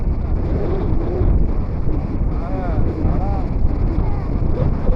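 Steady blustery sea wind on Puri beach roars across the microphone, with a low rumbling wash and faint voices drifting in the background.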